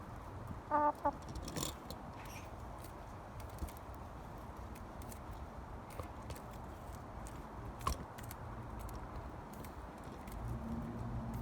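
Chicken clucking outdoors under an apple tree, a few short close clucks early on over steady rustling background ambience, with faint scattered movement noises and no talk.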